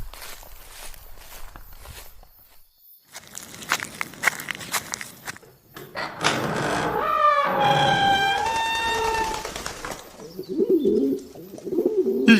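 Pigeons cooing at night at an eerie stopover spot, with footsteps and shuffling first, then a loud, close run of throaty coos and wing rustles that fades into quieter ambient sound.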